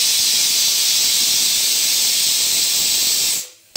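A pressure cooker cooking chole lets out a loud, continuous steam whistle that holds for over three seconds and then cuts off abruptly.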